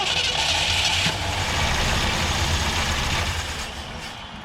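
A 1967 Ford Galaxie 500 V8 with bad gas and a bent push rod runs after cranking, a loud, rough, steady rumble close by that eases slightly toward the end, with no talking.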